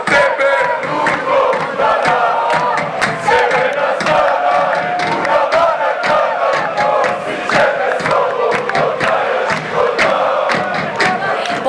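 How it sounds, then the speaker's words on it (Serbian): Red Star Belgrade supporters packed outside the Marakana stadium roar and chant together in a loud, continuous crowd din, with sharp rhythmic claps and shouts punctuating the mass of voices. "navijači su jako glasni i ja se iskreno nadam da naši igrači čuju sve ovo"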